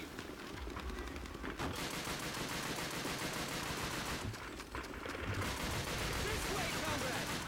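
Constant loud gunfire in the video game Call of Duty: Finest Hour on GameCube, rapid machine-gun bursts and scattered shots filling the whole stretch with dense battle noise.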